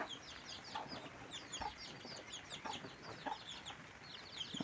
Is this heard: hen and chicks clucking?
yes